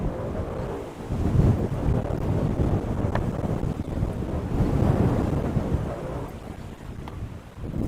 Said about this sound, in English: There goes that gust of wind, and now a huge one.